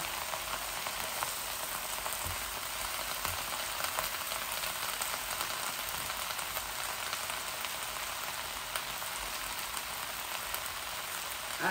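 Dried fish frying in mustard oil gives off a steady, even sizzle that crackles softly and continuously throughout, with no voices over it.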